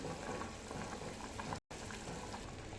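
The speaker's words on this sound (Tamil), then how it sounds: "குழம்பு கொதிக்குதுங்க" Soft, close bubbling of a thick cauliflower and pea kurma gravy simmering in a pot, a constant low gurgle with a brief gap partway through.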